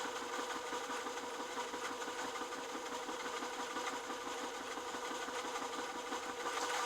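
An Elna Star sewing machine stitches a buttonhole in a fast, steady mechanical chatter that keeps an even rhythm throughout at close range.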